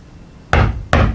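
Two sharp, loud knocks on a wall aboard the Queen Mary ship, stateroom B340, struck about 0.4 seconds apart and close by, each with a short ringing decay, with no talk over them.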